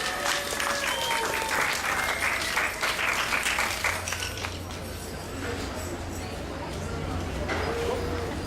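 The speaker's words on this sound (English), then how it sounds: "Round of applause for Virginia" An audience at a home birth rally in Sydney applauds a speaker, a mother and doula, with loud sustained clapping that tapers toward the end as voices talk over it.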